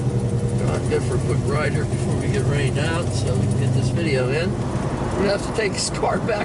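Steady mid-range engine drone from a 1971 Plymouth Duster driving on the road as rain begins, continuous and close throughout, with people talking over it.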